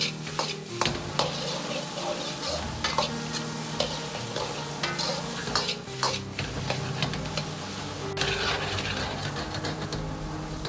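Diced, squeezed-dry eggplant tossed in a wok over raised heat: continuous crackling sizzle with frequent sharp spatula clacks and scrapes in an irregular rhythm, close and busy, no talking.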